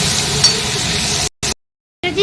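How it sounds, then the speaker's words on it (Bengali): Prawn curry with spring onions sizzles steadily in a pan for about a second, a dense frying hiss with faint stirring, then cuts out into silence before a brief return at the end. "আর এখানে আমি চিংড়ি মাছের কচি দিয়ে তরকারিটা করবো পেঁয়াজ কলি দিয়ে বসিয়েছি।"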